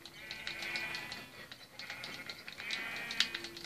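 Minecraft sheep bleat in short repeated calls, fairly faint, with soft clicks and game noise between them and a voice speaking over part of it.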